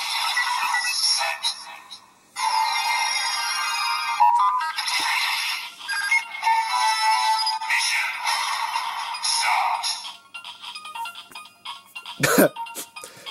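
A Kamen Rider Geats DX Spider Phone toy in phone mode sounds its electronic ringtone, loud and close, playing as a choppy series of bright synthetic bursts with short gaps and a sharp blip near the end.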